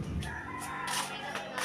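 Chickens cluck and call close by over a steady background hum, with a few sharper squawks breaking through.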